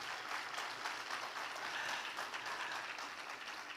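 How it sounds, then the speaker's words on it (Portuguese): A church congregation claps for a visiting couple, with steady, dense applause from a crowd that holds evenly throughout and has no talk over it. "Palmas para eles"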